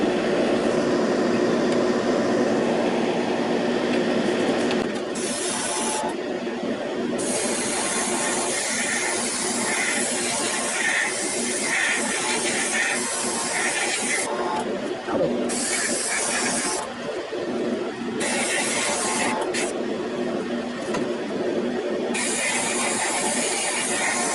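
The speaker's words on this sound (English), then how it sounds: "I'm able to spray it through my Iwata airbrush" A steady, broad hiss of an Iwata airbrush spraying paint onto an HO scale model locomotive in a spray booth runs nearly continuously, pausing briefly a few times, with faint mechanical clicks mixed in.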